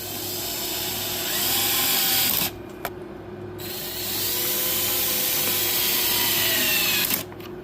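A steady, loud power-tool whir drives screws into a Jeep Wrangler JK tail light, running continuously with two brief dropouts, with no talking.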